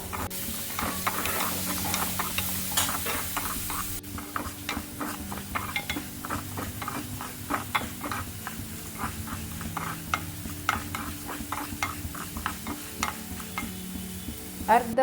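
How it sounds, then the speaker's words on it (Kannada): Urad dal frying in hot oil, sizzling steadily and close up while a spoon stirs and scrapes the pan in a busy continuous rhythm, with no voices. "1 ಟೇಬಲ್ ಸ್ಪೂನಷ್ಟು ಎಣ್ಣೆಯನ್ನು ಬಿಸಿ ಮಾಡಿ 1 ದೊಡ್ಡ ಚಮಚದಷ್ಟು ಉದ್ದಿನಬೇಳೆ ಚೆನ್ನಾಗಿ ಕೆಂಪಗೆ ಹುರಿದ"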